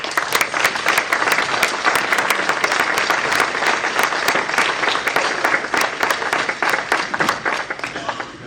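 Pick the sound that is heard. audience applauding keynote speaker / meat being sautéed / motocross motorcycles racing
audience applauding keynote speaker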